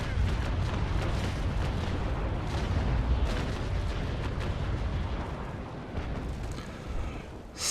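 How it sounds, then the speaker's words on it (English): A sailing warship's cannon broadside fires in the Naval Action naval game, a dense, continuous rolling roar of booms that holds loud throughout before briefly swelling at the end. "hopefully fire a starboard broadside into him"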